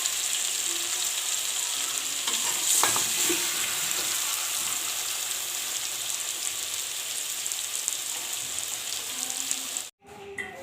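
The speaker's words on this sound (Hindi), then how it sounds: "ये आलू बैंगन हमने फ्राई करके निकाल लिए हैं" Potatoes and aubergines frying in hot oil, a dense, continuous sizzle with occasional stirring clinks, steady and close, ending with a brief break.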